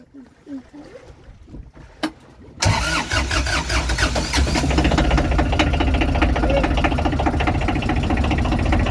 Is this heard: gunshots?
no